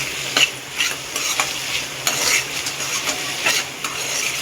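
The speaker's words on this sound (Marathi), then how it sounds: "आता अद्रक लसूणची पेस्ट टाकली आहे। आता परत आपण एकदा ह्याला व्यवस्थित हलवून घेऊया।" Ginger-garlic paste sizzles in a hot pan for egg masala while a spoon stirs it, giving a loud bright hiss with repeated scraping strokes at a fairly steady rhythm, close and without talk.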